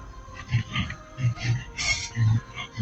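A pig grunts and oinks in short, low bursts close by, several times in a row, with a brief higher squeal partway through and people's voices nearby.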